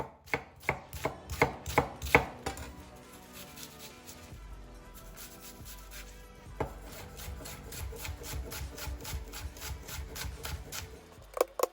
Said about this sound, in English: Finally, chop the onion.